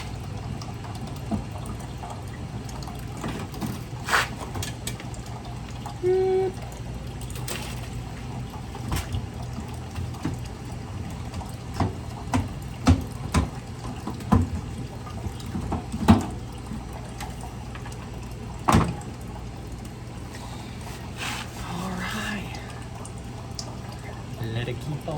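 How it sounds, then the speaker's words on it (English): Water dripping and trickling from the drain of an LG front-load washer with a bad drain pump, faint irregular drips and small splashes over a low background hum. "Let it keep on dripping."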